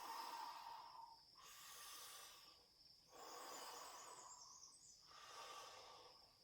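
Slow, breathy exhalations during a Metal qi gong breathing exercise come in long airy waves, about four of them separated by short pauses, close and soft with no talking.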